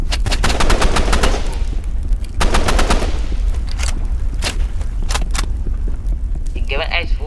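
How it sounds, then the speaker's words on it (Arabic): Rapid bursts of automatic gunfire in a Roblox shooter game, several loud rattling volleys separated by short pauses, with a brief electronic game sound near the end. "خد كام طلقة كمان"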